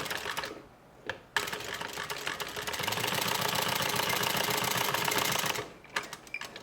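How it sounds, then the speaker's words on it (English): Sewing machine running a short back stitch along a seam in a forgiving fabric while making a tote bag, a steady fast mechanical chatter lasting a few seconds, close and even, with brief quiet before and after. "I'm going to do a little back stitch here."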